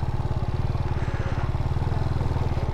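A motorcycle engine runs close by in a steady, chugging idle. Its rapid, regular low pulses keep the same pace throughout, loud and unbroken, with no clear revving or ride-off.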